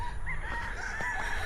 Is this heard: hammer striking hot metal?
no